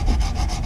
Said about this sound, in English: that sanding power comes from me pushing down, rotating around